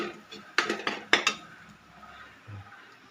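A utensil stirs and scrapes egg and rice in a pan over low heat for basic fried rice, several sharp metallic clinks and knocks in a quick cluster, close by, then a quiet pause with a soft thud.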